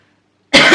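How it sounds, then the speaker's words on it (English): A single sharp, close cough from a person recovering from a cold bursts out after a stretch of silence and lasts a moment. "I'm just getting over a cough as well"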